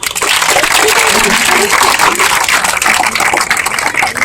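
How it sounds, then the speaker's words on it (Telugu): A dense, steady wash of audience applause at an outdoor sports meet with a shot put event in Gudivada, loud and close, continuing without a break. "claps claps"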